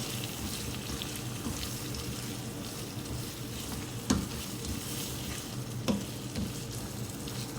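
Sliced tomatoes fry with onion, garlic and ginger in a pan, giving a steady close sizzle throughout with a couple of brief clinks from stirring, no voices.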